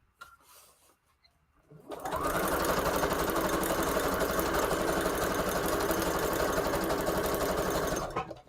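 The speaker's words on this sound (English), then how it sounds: "if you're just joining me and you want to see the stitch, this is my machine. It's the Project Runway this edition right here." A Project Runway edition sewing machine stitches steadily and loudly for about six seconds after a quiet start, then stops abruptly. No one talks.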